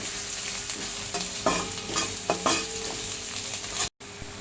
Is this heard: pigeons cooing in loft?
no